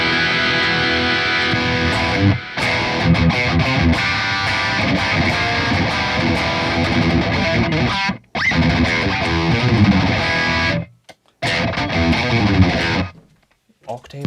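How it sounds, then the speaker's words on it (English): Electric guitar played through an octave effect, a thick doubled tone with strummed and picked notes, loud and continuous apart from a few brief silent gaps near the end. "Octave sound."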